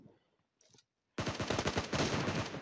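Rapid bursts of gunfire from PUBG Mobile fill the second half, loud and dense, following a quiet lead-in with a brief faint sound.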